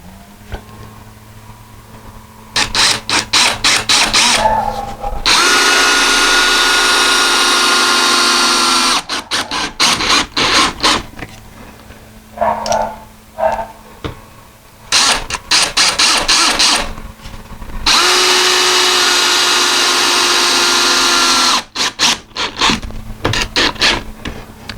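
A power drill drives screws into a deadbolt lock set in a wooden door. It whines in several sustained bursts of a few seconds each, with short pauses and clicks between runs, loud and close.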